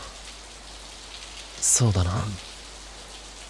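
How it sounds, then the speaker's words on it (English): Steady rain hisses evenly throughout a scene in the video game Steins Gate 0, with a short spoken line briefly rising over the downpour. "It started to rain."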